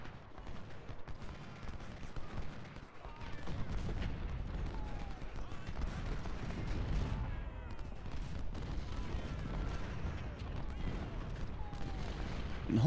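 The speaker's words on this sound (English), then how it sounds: "extra cannon fire here" Continuous heavy rumble of massed cannon and gunfire on a Civil War battlefield in the Ultimate General strategy game, a dense, steady barrage of booms with crackling shots layered throughout.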